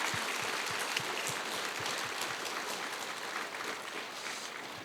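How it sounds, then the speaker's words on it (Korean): A church congregation at a Sunday service gives the children a steady round of applause, the dense patter of many hands sounding faint and distant throughout. "우리 자랑스러운 아이들에게 우리 큰 격려의 박수 한번 하는"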